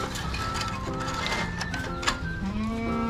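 Goats in a backyard farm pen bleat several times over a constant background of animal movement and low rural noise, their calls short and moderately near with no talking.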